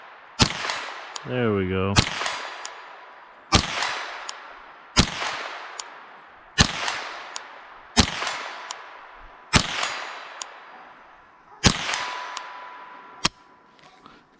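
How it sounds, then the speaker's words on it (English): A .22 rimfire rifle with iron sights fires about eight sharp, close, evenly spaced shots during outdoor plinking, each with a quick decaying echo, and someone speaks briefly between them. "Iron sights, free-handed, and I don't shoot rifles often."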